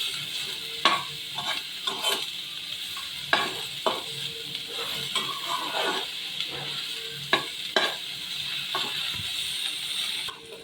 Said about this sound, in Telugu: ఇప్పుడు మనం ఇది 2 మినిట్స్ ఫ్రై చేసుకోవాలి.